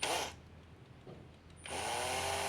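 A homemade 12V DC motor with PWM speed control, built from salvaged parts, whirs briefly, cuts out to near silence, then spins up again with a steady, high, tonal whine close to the microphone.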